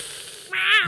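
A person imitates a cat's meow with their voice, a single drawn-out, rising and falling mewing cry that is loud and close, following a quieter stretch of vocal sound.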